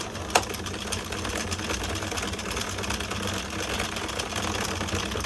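A circular knitting machine cranks out rows of a baby blanket with a steady, even mechanical whirring and clatter, close and moderately loud, a single sharp click near the start.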